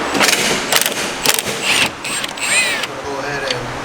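A hand ratchet clicks in short repeated bursts while loosening the upper strut nuts on a car's suspension, close and fairly loud, with faint creaks and squeaks between strokes.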